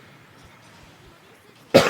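A single loud, close cough bursts out abruptly near the end, after a stretch of quiet background noise from a Gundam Battle Operation 2 gaming session.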